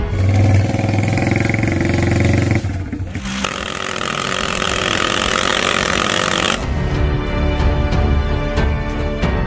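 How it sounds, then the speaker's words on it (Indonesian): A loud motorcycle fitted with a rifle-style chrome exhaust revs hard and continuously, with a short dip in the middle before the roaring engine picks up again and keeps booming close by. "ini yang membuat suara bising, knalpot versi senapan, sehingga suaranya menggelegar seperti senapan"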